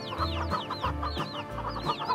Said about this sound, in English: I need some more regular chickens because I sold a couple of them.